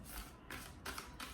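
Tarot and oracle cards from the Good Tarot and Mystical Shaman Oracle decks being shuffled by hand, heard as close, soft papery riffles in three or four brief bursts with no talking.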